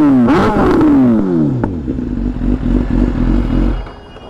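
A BMW S1000RR superbike engine revs loudly and close, dropping in pitch from a high rev before settling into a steady, throbbing idle that cuts off near the end.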